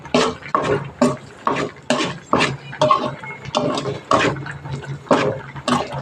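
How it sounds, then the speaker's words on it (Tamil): A ladle stirs curry leaf kuzhambu in a pot, making rhythmic, repeated scraping and sloshing strokes that stay close and fairly loud throughout, with no talk over them. "ஒரு நிமிஷம் நல்லா கிளறி விட்டுக்குவோம்"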